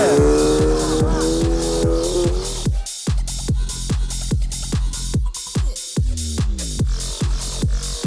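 A race car engine fires up and revs hard through repeated gear shifts as it accelerates away, loud and close, with tire squeal and skidding between the sharp engine pulses.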